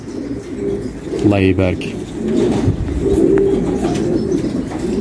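Pigeons coo in a low, throaty rolling call nearby, with a single clear burst amid background chatter and someone speaking briefly.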